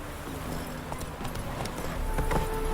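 Roach, a horse in the Witcher 3 video game, trots along with a steady clip-clop of hooves, moderately near, over a faint ambient bed with a few brief tonal accents and no talk.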